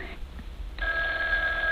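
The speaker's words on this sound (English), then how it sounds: "it's the phone ringing" An old-style telephone bell rings as a radio drama sound effect, starting partway in with a steady trill that sounds slightly distant and thin, following a quieter stretch.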